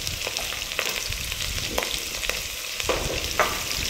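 Garlic, onions and tempering seeds fry in hot oil for a gongura chutney tempering, a close, steady sizzle with sharp crackles and spatters scattered through it, and no talk.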